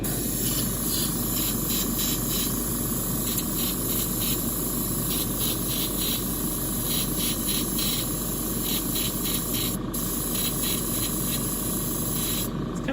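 A steady, close airbrush hiss sprays paint continuously, with brief pulsing breaks where the spray sputters unevenly.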